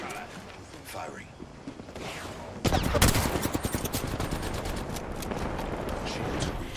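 Rapid automatic gunfire in the video game Apex Legends, a dense burst of shots that starts abruptly partway through and continues as a loud, steady rattle over game ambience, with a voice talking faintly earlier.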